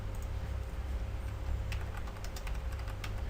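Fingers tap out a password on a computer keyboard, a quick run of faint, light key clicks over a low steady background hum.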